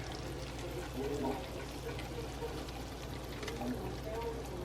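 A sweet topping is poured over sweet potatoes for a Sunday dinner, making a steady, soft, continuous pouring and trickling sound that stays fairly faint throughout.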